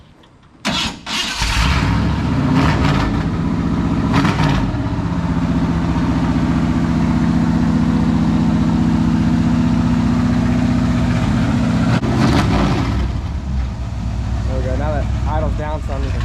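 A Honda four-wheeler engine starts and settles into a loud, steady, rumbling idle up close. It keeps running throughout, with a brief rev or clatter near the end.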